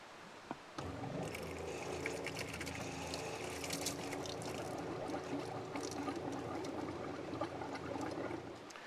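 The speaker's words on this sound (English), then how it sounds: "I'm only gonna do this until it really starts to sputter and then I'll shut it off" A camper's water pump runs steadily while pushing water out of the system, giving a continuous low whir with gurgling, splashing liquid on top that keeps going after a sharp click at the start.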